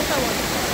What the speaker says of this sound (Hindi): और नए वाटरफॉल आ गए हैं जिसका नाम है